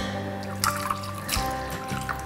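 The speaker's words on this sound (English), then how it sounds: "Do you want to pour the milk in now?" Milk is poured into a mixing bowl while making cheesy muffins, a close, fairly loud liquid trickle and splash in short bursts with a faint kitchen hum underneath.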